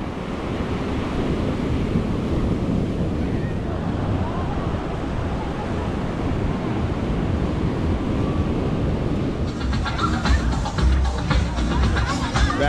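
Waves roll onto a beach in Bali with steady wind buffeting the microphone, a continuous loud wash of surf and gusts heard up close, with some brief rustling toward the end.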